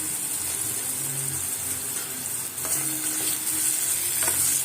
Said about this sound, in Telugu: సో పచ్చిమిరపకాయలు కూడా కొంచెం వేగాలండి. చూడండి, ఈ విధంగా కొంచెం వేగుతూ ఉండాలి.